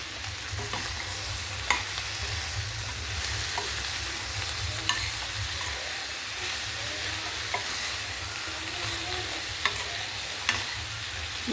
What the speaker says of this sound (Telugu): ఇలా ఆనియన్స్ ఫ్రై అయిన తర్వాత చిక్కుడుకాయ ముక్కలు వేసేసుకున్నాము